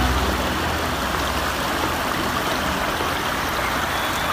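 Water rushing through an irrigation headworks channel at Head Haria, Mandi Bahauddin: a steady, dense, broadband roar of flowing water, loud and constant throughout with no breaks.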